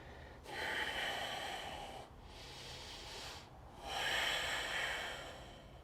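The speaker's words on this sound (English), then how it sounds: "take a breath." A deep yogic breath taken during a core flow, with a long audible airy inhale followed by a slower exhale, close and clear, after an instructor's cue.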